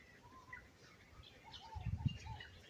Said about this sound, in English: So much bird life here too.